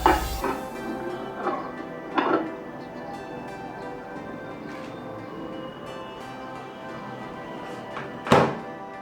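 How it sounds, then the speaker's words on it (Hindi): A dish of peanuts thunks down inside a microwave, with a few light clatters and knocks around it against a quiet hum. "तो चलिए इसे माइक्रोवेव के अंदर डालते हैं।"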